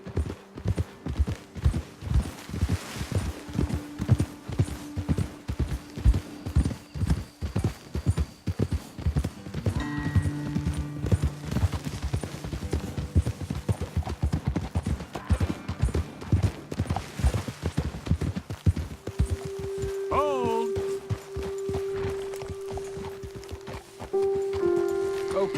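Horses walking in Red Dead Redemption 2, their hooves clip-clopping in a steady, close rhythm over soft terrain, with men conversing over the hoofbeats and faint tonal game sounds in the background.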